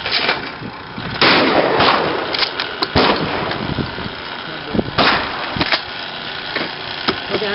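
Shotgun blasts at clay trap targets ring out outdoors, several sharp reports spread across the span with echoing tails, mixed with broadband noise and occasional voices.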